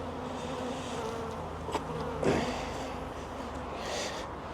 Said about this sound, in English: bees are a little bit antsy.